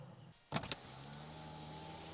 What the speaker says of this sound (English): just listen to the noise that glass makes when it drops down